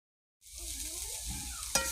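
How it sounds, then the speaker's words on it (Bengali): Greens stirred into a hot pan of fried garlic, dried chilli and onion set off a loud, steady sizzle after a brief silence, with a sharp clink of the utensil near the end. "ভাজা রসুন শুকনো মরিচ ও পেঁয়াজের মধ্যে শাকগুলো দিয়ে এবার ভালো করে নেড়ে চেড়ে তারপরে নামিয়ে নেব"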